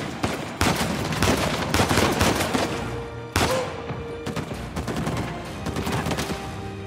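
Gunfire from the video game Uncharted 4: A Thief's End rattles in rapid bursts, sharp loud cracks and repeated volleys with brief pauses between salvos.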